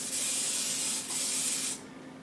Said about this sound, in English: I'm just going to spray in some Pam,